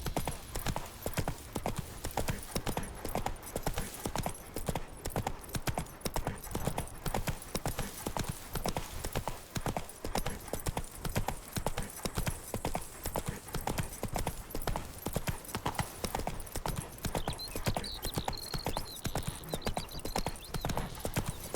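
Hooves of a galloping horse from The Witcher 3 pound in a fast, continuous rhythm of close, loud clip-clops that run unbroken from start to finish, with a brief tonal whinny-like sound near the end.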